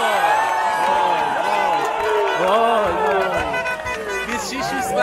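A packed arena crowd cheers and chants at an Iran vs Argentina volleyball match, a loud, dense, rolling wall of voices with whoops rising above it and a nearby person talking through the noise.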